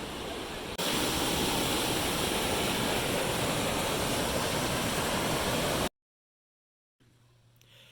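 Loud, steady rushing water of the Rio Macho river in Costa Rica fills most of the clip, then cuts to silence before quieter ambience returns.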